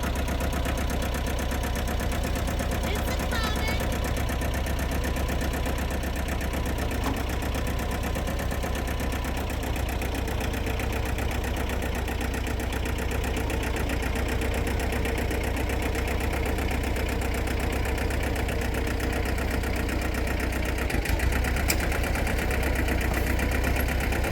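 A small Ford tractor engine runs steadily nearby in a workshop setting, a constant rough, knocking idle throughout with no speech.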